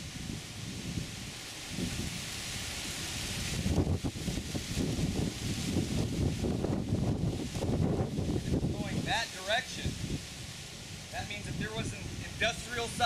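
Wind blows outdoors as a steady broadband rush with stronger gusts in the middle. Brief bird chirps come in near the end.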